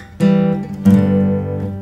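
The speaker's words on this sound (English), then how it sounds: "you're going to get a little lick that kind of sounds like this." Short acoustic guitar lick closing the intro of a song: two plucked note groups ring out clearly, the second sustaining and fading, played alone and close.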